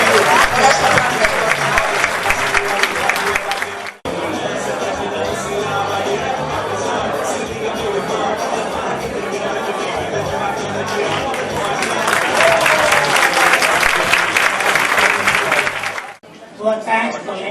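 A convention audience gives sustained applause as Maria da Penha is welcomed onstage, a loud, dense wash of clapping from a large crowd lasting several seconds before tapering off at the end.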